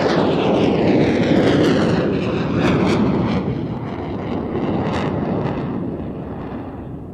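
A loud aircraft engine roars near the runway as a specially painted military or civil plane passes, a broad sustained rumble with shifting whine tones that slowly fades over several seconds, with wind buffeting the microphone.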